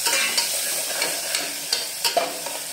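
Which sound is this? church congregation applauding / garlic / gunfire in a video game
garlic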